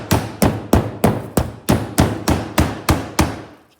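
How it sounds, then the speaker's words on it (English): A pork loin trimmed of fat is pounded flat under plastic wrap with a meat mallet: about eleven loud, evenly spaced thuds in a steady rhythm, close by and with no talking. "got it pounded down"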